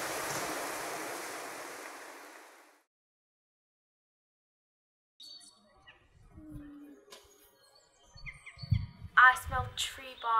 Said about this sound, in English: I hear birds tweeting and the sound of rivers crashing.